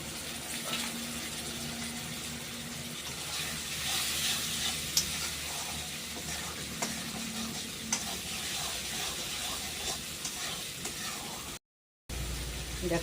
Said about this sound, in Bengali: মটরশুঁটিগুলো দিয়ে দিই, মটরশুঁটি।